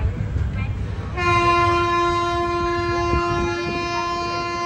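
A passenger train at Villupuram junction sounds a long, loud, sustained horn blast that cuts in over rumbling station and rail noise and holds steady to the end.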